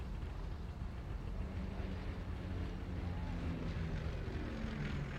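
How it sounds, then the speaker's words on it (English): A propeller-driven military scout plane engine drones as a steady low hum overhead, constant and moderately distant, with wind noise and no talk. "Low hum of that engine. That's one of our scout planes, no doubt about it."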